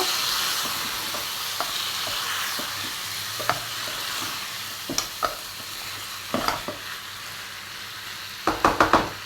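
Chicken mappas sizzles in a pan under a steady hiss while a spoon stirs it, giving scattered scrapes and taps that grow more frequent toward the end, close with no voices.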